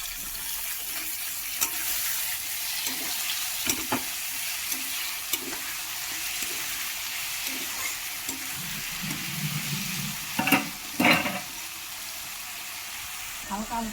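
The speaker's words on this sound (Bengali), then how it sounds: "এবার এটাকে হালকা হালকা করে ব্রাউন করে ভেজে নিতে হবে।" Boiled chopped vegetables browning in oil for fried rice, a continuous sizzle under repeated knocks and scrapes of stirring, with a faint voice in the background.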